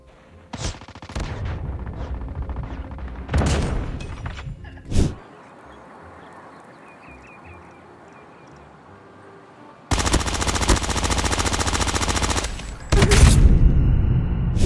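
Sniper rifle shots in a mobile battle shooter game, several loud sharp bangs in the first few seconds followed by a quieter stretch and then a long burst of sustained rapid gunfire near the end.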